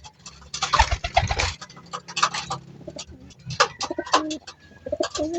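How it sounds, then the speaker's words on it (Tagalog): Pigeons at a home pigeon loft, including blue bars with red rings, coo and flutter close by in repeated soft bursts with scattered calls and rustling. "At ito naman yung mga pang norte natin mga kalapatids."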